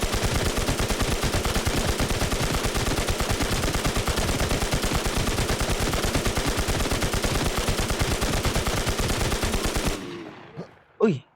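Rapid automatic gunfire from the Infestation video game rattles on loud and continuous for about ten seconds, then stops abruptly, leaving a couple of faint thuds.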